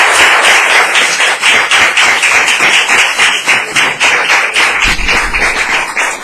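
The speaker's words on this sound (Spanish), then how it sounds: "Dale una ofrenda de aplauso al Señor." A church congregation applauding together, a loud, close, steady stream of rapid overlapping claps that carries on unbroken for several seconds.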